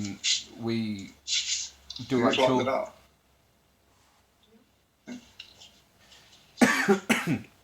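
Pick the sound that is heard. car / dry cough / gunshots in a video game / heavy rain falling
dry cough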